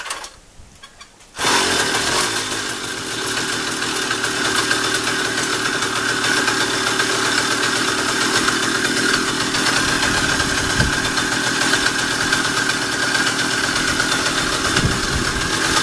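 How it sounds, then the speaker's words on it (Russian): Riga 13 moped engine with electronic ignition and a stock mesh in the muffler runs at a steady idle, freshly rebuilt and still being broken in; loud, continuous buzzing drone that starts after a brief quiet moment and holds steady throughout. "Вот такая работа движка."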